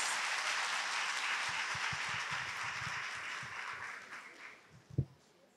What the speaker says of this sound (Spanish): a despedirlas con un fuerte aplauso